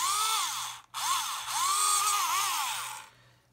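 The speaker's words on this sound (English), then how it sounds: "I'm going to drill through there." A small 2.5 mm power drill whines through a plastic 1/32 scale model Lancaster tailplane, its pitch rising and dipping in several arching bursts with one brief stop, close and fairly loud, then cutting off near the end.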